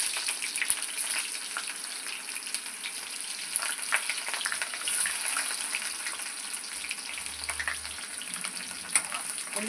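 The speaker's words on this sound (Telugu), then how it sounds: "జీలకర్ర ఆవాలు వేసుకొని వేయించుకుందాం. ఉల్లిగడ్డలు వేసుకుందాం." Onions frying in hot oil with cumin and mustard seeds give a dense, steady crackling sizzle with scattered sharp pops, close and unbroken throughout, with no voices.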